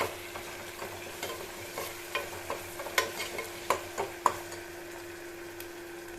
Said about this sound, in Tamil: இப்போ ஓரளவுக்கு நல்லா வதங்கி வச்சுக்கணும்